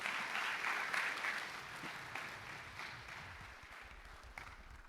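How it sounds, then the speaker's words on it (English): Audience applause at a business congress panel: a faint, dense wash of many hands clapping, steady and then gradually thinning toward the end, with no voices over it. "Can we give them another round of applause?"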